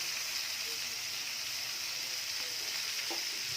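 Winged beans tossed into a pan of frying shrimp seasoned with salt and turmeric, a steady bright sizzle throughout with a faint stirring clink near the end.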